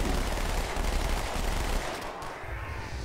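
Automatic SMG fire in Halo 2 Anniversary, a sustained, dense stream of rapid rounds rattling continuously for about three seconds, loud and close, easing slightly toward the end.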